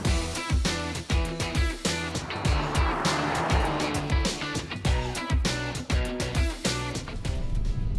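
A 2020 BMW X5 M Competition SUV's engine drones loudly under hard driving, its pitch climbing in repeated surges as it holds gears and shifts up quickly, a continuous powerful roar with no talking.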